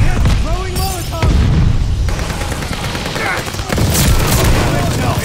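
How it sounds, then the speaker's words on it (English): Stun grenades and a Molotov thrown in Call of Duty Vanguard multiplayer: dense bursts of booms, pops and gunfire in quick succession, loud and close, with voices over the action. "Throwing stun grenades. Yes, throwing Molotov."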